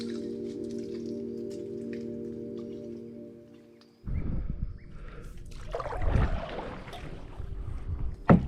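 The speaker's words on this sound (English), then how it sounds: "what I'm doing now is I'm just kayaking up this little section of creek" A kayak paddling up a small mangrove creek: a steady droning hum fills the first half, then close, splashy paddle strokes and water churning take over, loud near the microphone with no voices.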